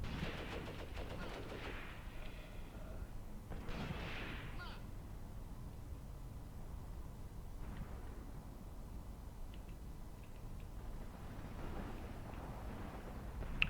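Gunfire crackles through a German counterattack in the Graviteam Tactics war game, faint and distant bursts and rumbles spread over a steady dull background with no clear voices.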